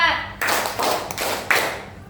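Adults at a teachers' workshop playing a counted clapping game, three or four loud group claps in steady rhythm right after a brief spoken cue, each ringing with room echo.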